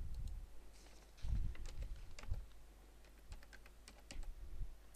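Password being typed on a computer keyboard: a run of quick, uneven key clicks with a few heavier strokes, close and fairly quiet, with no speech over it.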